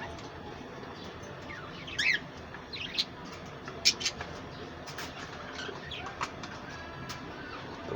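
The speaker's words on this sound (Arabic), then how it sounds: "العصافير بتبقى فرحانة بيها." Sparrows gather on a city balcony to feed on a morning egg meal, giving a few faint, scattered chirps and brief wing flutters over a steady low background hum.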